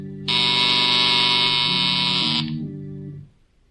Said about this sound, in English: K-12 watches those lights intently some moments before a buzzer sounds.